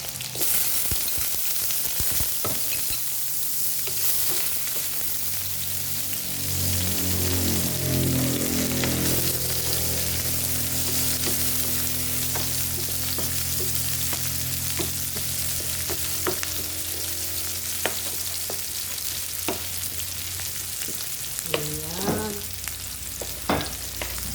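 Beef sizzles steadily in hot oil as it is sautéed for Filipino beef ginisa, a dense continuous frying hiss with stirring clatter throughout, close and loud with no talking.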